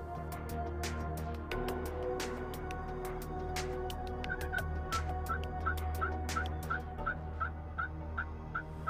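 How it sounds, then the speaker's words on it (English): Wild turkeys gobble in the woods during a spring hunt, a few rattling gobbles from far off that sound faint. Sharp, close bird chirps repeat in a regular rhythm in the foreground. "I hear a couple of gobbles, faint gobbles, off to the west."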